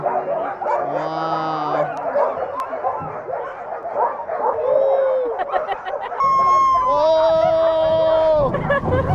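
A team of sled dogs in Skagway, Alaska barks, yips and whines excitedly before a sled ride, close and lively, while people talk and react in the background.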